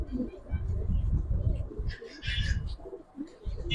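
Giribaz pigeons, including a green-necked silver pigeon, cooing in a series of soft, low, close throaty coos, with brief rustling and someone speaking between them.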